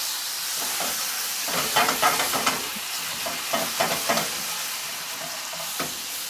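Bananas cooking in a pan with rum for bananas Foster give a continuous close sizzle, broken by several scraping and stirring bursts as the fruit is moved and flipped.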